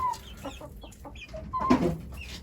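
Backyard chickens cluck in a flock that includes roosters, with short irregular calls and one louder squawk near the middle, fairly close against a soft outdoor background.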